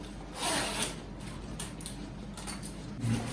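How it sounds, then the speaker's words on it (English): A zipper on a Rynox Tornado Pro 4 motorcycle jacket is drawn open, a faint scratchy rasp in a few short pulls with small pauses between them, heard close up with no voices. "Now I will open the zip and I'll show you."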